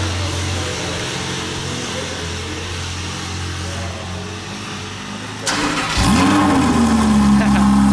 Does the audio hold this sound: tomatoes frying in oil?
no